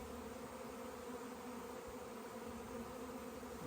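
Bees hum around a hive in a steady, continuous drone throughout, close and unbroken, with no talking.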